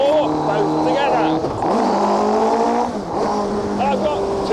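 Twin-engine Tiger car accelerating hard and shifting gear, with stepped rising engine harmonics that drop and climb again at each change, loud and close with the rev pattern repeating twice.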